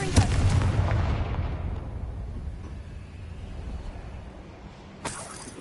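A Confringo fire spell blasts in the Hogwarts Legacy video game, with a loud booming burst that rumbles away over a few seconds, then a second sharp blast near the end.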